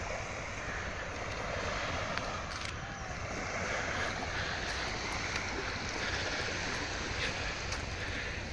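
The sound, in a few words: sea waves at Bakkhali beach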